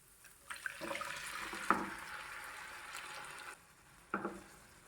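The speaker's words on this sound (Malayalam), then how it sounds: "ഇനി ഇതിലേക്ക് കുരു വേവിച്ച വെള്ളത്തോടു കൂടി തന്നെ ഇതിലേക്ക് ചേർത്ത് കൊടുക്കാം." Cooking water from boiled jackfruit seeds is poured into a sautéed jackfruit seed curry in the pan, a burst of sizzling and splashing that runs for a few seconds, stops, then flares briefly again.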